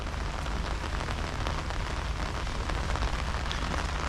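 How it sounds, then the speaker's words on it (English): Rain falling steadily on marble stairs in Greece, a dense continuous patter and splash of water close by, even and unbroken throughout with no voices. "It's a pity it's raining"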